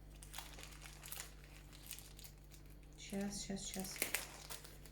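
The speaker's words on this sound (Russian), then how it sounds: "Открываю. Вот. Открываю. Разрываю." Plastic wrapping of a cotton clothing package being torn open during an unboxing, crinkling and rustling in bursts with a sharper rip near the end, under ongoing speech and a steady low hum.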